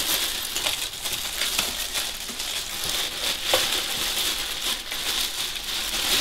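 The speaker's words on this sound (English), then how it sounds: "That's from opening the packet." Plastic packaging around a boxed Hyundai air compressor crinkles and rustles as it is torn open, a steady close-up crackle lasting several seconds with no talk.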